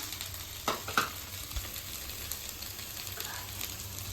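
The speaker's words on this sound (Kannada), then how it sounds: "ಇದನ್ನು ನೀಟಾಗಿ ಒಂದು ಫ್ರೈ ಮಾಡ್ಕೊಂಡಿರೋಣ" Sago pearls frying in a pan for payasa give a steady, fairly faint sizzle, with a couple of brief stirring clicks early on and no talking.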